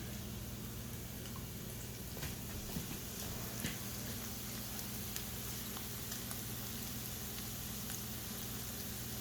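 Bacon grease sizzles steadily in a pan over high heat, a dense even crackle with scattered sharper pops, close and constant throughout.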